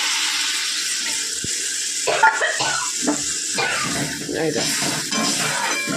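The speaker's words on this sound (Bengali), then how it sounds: "গরম জল দিলে পরে যেটা হয়, সাথে সাথে ঝোল ফুটে যায়" Fish curry broth with potatoes bubbles and hisses in a pan after hot water is poured in, a close, busy crackle with a few stirring knocks, and a voice may briefly murmur underneath.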